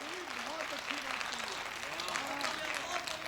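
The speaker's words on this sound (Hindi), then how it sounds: "तालियां उठाओ तो जरा मन से उठाओ" Audience applause at a Hindi comic poetry gathering rolls on continuously under a man's sung or chanted voice, the clapping dense and fairly distant.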